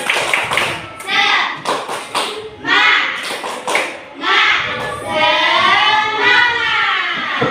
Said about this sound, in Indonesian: Oke, tepuk semangat dulu kita ya.